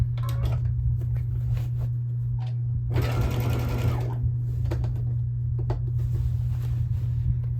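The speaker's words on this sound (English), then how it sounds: "I'm stitching where there's only the single layer of binding fabric." A sewing machine stitches a single layer of quilt binding fabric, its motor whirring steadily at close range, with one louder burst of fast stitching in the middle and faint handling sounds around it.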